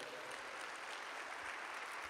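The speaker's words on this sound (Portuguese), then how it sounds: "dê uma salva de palmas a Jesus agora" A church congregation applauds in a dense, continuous patter of many hands clapping, steady and moderately distant throughout, without any voice over it.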